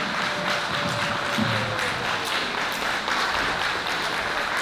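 An audience gives sustained, dense applause after a kindergarten children's performance at a celebration of the 100th anniversary of Poland's independence. The clapping stays steady and full throughout.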